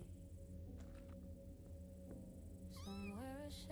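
A cat in an indie video game lets out a short series of wavering, rising meows near the end, heard over steady background game music and ambience.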